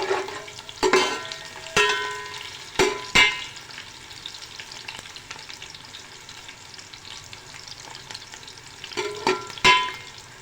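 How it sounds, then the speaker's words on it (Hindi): Whole garam masala, cloves and black pepper, frying in oil for a prawn pulao, giving a soft steady sizzle with several sharp clinks and stirring scrapes of a utensil against the pan. "गरम मसाले को हम ऑयल में फ्राई करेंगे ताकि इसका एक अच्छा सा अरोमा, जो फ्लेवर है वो हमारे ऑयल के अंदर आ जाए"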